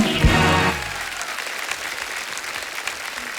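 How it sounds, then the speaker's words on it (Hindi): Studio audience at a Hindi comedy talk show greeting three master chefs with loud, sustained applause that swells quickly, then settles into steady clapping and crowd noise throughout. "एक बार जोरदार तालियां हो जाए हमारे तीनों मास्टर शेफ्स के लिए।"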